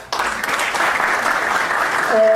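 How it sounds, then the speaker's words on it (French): Loud, dense audience applause at a university open day in Morocco, a continuous roar of many hands clapping close by, sustained without a break, with a faint voice near the end. "je souhaite une bonne fête à toutes mes dames que j'applaudis très fort"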